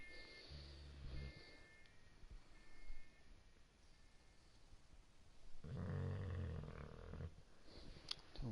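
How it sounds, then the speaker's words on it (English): A pit bull boxer mix dog snores in low, rough rumbles, with a louder, sustained stretch near the end, set against faint game sounds. "my dog is fucking snoring like a truck driver"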